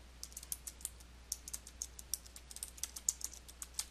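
Text is typed steadily on a computer keyboard, a rapid run of light, crisp key clicks at an uneven pace over a faint hum, with no talking.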